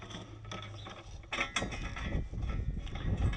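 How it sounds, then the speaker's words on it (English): Bolts are started into a rear wheel hub on a 2010 Cadillac CTS, with close metallic scraping, ratcheting clicks and creaks that grow busier and louder toward the end. "So we will get all of our 3 bolts started."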